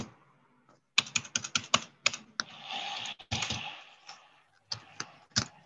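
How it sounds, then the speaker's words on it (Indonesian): Keys clatter on a computer keyboard during an online accounting class, a burst of irregular close clicks with brief pauses and a longer rustling stretch in the middle, no voices. "Ada yang sedang mengetik."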